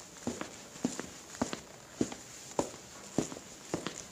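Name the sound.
footsteps outside a closet door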